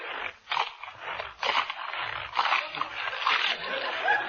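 A voice mimics a chutney puggly-woogle being eaten, with rough, wet, scraping mouth sounds in irregular surges, close and steady on a thin, old radio recording.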